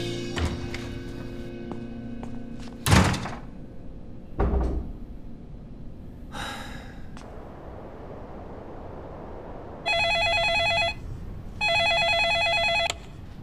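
An office telephone rings twice in steady electronic bursts near the end, after a few thuds and door-like knocks in an otherwise quiet room.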